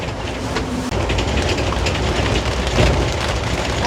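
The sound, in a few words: rain falling during a jungle trip in Khao Sok, Thailand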